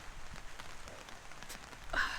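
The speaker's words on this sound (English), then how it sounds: "Sorry, but we like the rain." Steady rain falls on a surface, a dense, even patter of drops heard up close, with a few slightly louder splashes near the end and no talking.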